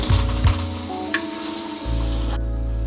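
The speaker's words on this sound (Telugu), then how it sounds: "అలాగే కరివేపాకు వేసేసుకోండి." Curry leaves hit hot oil for a tempering, with dried red chillies, turmeric and asafoetida, giving a steady close sizzle and bubbling with a brief stir partway and a dip before the frying noise swells again.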